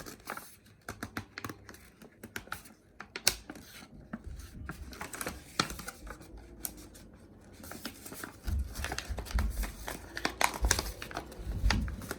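Sheet of paper folded by hand into a paper crane, with soft crinkles, creases and rustling taps scattered through the clip, growing louder and denser toward the end, up close and with no talking.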